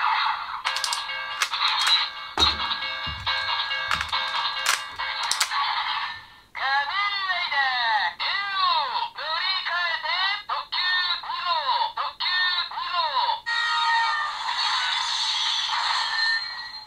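Electronic toy sound effects from a Den-O Ressha train of the ToQger Ressha Gattai EX series: a burst of chirpy beeps, then a long run of rapidly warbling, sweeping electronic tones, ending in a brighter buzzing jingle, loud and close.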